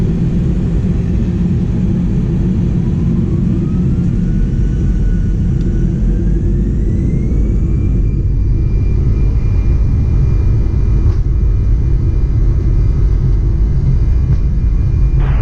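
Alaska Airlines jet taking off from runway 25 right, heard from inside the cabin as a loud, steady engine roar and rumble with a rising whine, continuous throughout.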